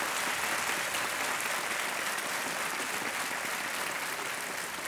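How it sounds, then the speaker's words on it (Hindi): Studio audience on the KBC quiz show clapping in a thick, continuous roar of applause that stays loud and steady throughout, with no voices over it. "बहुत बहुत तालियां बजती रहे इनको।"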